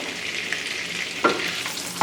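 Melted butter sizzles in a pan for gnocchi, a steady close crackling fry with a couple of brief stirring scrapes.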